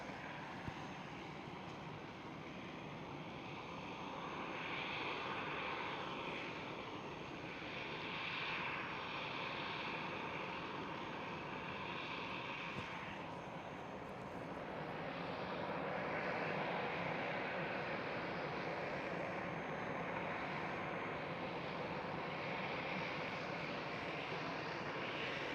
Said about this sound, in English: Next one up for the departure is this EasyJet.